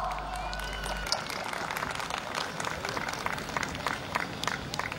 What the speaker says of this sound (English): They literally deserve a huge round of applause.